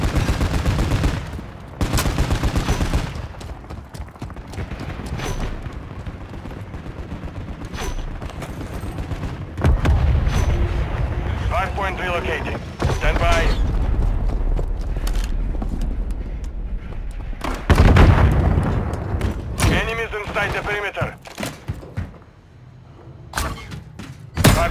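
Gunfire and grenade blasts from a hardcore Hardpoint match in Call of Duty: Modern Warfare 3, with dense bursts of shots and thuds running throughout, over a steady bed of game sound and occasional announcer voice lines.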